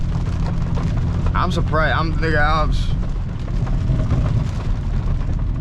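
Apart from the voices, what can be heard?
heavy rain on a car in Miami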